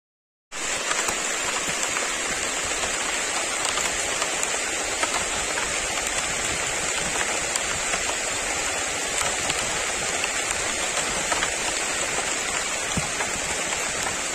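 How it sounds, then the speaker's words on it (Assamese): Rain falls steadily during a jungle cycle ride, a dense even hiss of drops on leaves and ground that starts abruptly and holds constant and fairly loud throughout. "কথাতে বৰষুণ আহি গ'ল"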